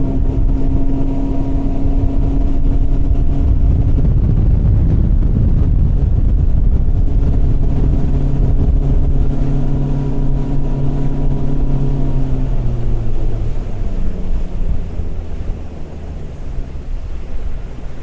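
A 2020 Nitro Z21 boat with a Mercury 250HP Pro XS outboard roars at full throttle, a loud steady engine drone with rising pitch as it gains speed, then easing slightly near the end.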